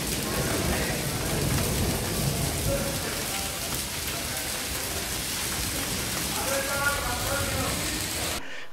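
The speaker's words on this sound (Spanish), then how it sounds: "Una granizada en Sevilla brutal." Heavy hailstorm pelting down in Seville during Holy Week, a dense, steady roar of hard impacts and rain filling the whole stretch, with a faint voice partly buried in the din before it cuts off abruptly.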